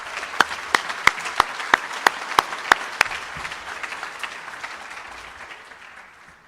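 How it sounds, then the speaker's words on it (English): An audience applauds the Austin Bold FC announcement with a burst of sharp, distinct claps that gradually soften into a sustained, fading round of applause. "please, another round of applause for the Austin Bold FC"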